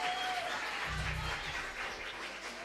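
Audience applause at a live poetry performance, a soft, continuous patter of clapping from a small crowd, with a brief low thump partway through.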